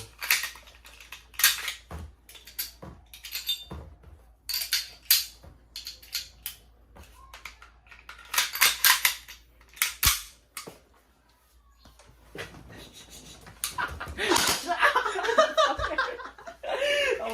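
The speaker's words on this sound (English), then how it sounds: "I'm doing this race with Cadet Albano to take apart the M17, see if we can do it the fastest." An M17 pistol quickly taken apart against the clock, sharp metallic clicks and snaps of slides and parts in quick irregular bursts, close by, with a brief laugh and a rustling clatter near the end.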